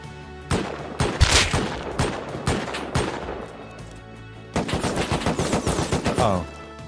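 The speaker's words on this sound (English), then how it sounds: "This guy's shooting me." Gunfire in the survival video game Rust: scattered single shots at first, then a rapid burst of repeated shots, sharp and loud against a quiet background.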